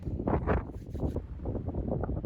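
Gusty wind buffets the microphone in low, uneven rumbling bursts, loud and close, with no voices.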